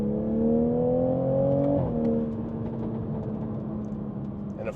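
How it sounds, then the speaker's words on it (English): A 2020 Toyota GR Supra's B58 engine in sport mode, manual, second gear, with traction control off, revs up loudly and close, the pitch climbing then dropping off into a steady idle-like drone. "the drama behind the B58, those pops, and the sound of the B58 is just so amazing"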